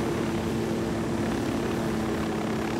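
A helicopter in the video game Ghost Recon Wildlands flies at night with a steady, loud, droning rotor and engine hum that holds evenly throughout, close and without speech.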